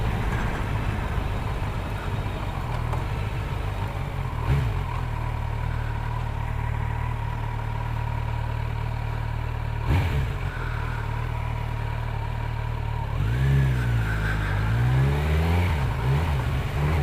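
Kawasaki Z900 motorcycle fitted with an Akrapovic exhaust, a steady loud engine drone under riding wind that climbs into rising, sweeping revs near the end as the bike accelerates, with no talking.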